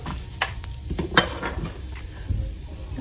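Onions, ginger and spices sizzle and crackle in a hot pan for anchovy fish curry, with scraping stirs and a few sharp clicks of a utensil against metal.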